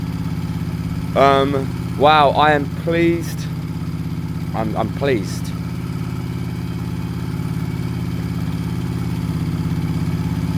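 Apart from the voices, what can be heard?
classic motorcycle engine warming up and revving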